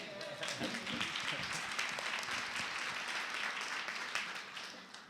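Audience applause and cheering at a 2022 homecoming celebration, a dense, steady wash of clapping from a crowd that holds throughout and fades slightly near the end.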